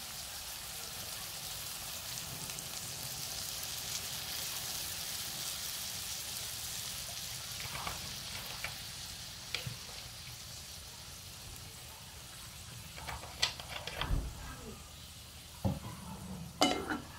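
Buttered garlic shrimp sizzle steadily in a hot pan, a constant broad hiss with scattered clinks and scrapes of a utensil stirring, growing busier and louder toward the end.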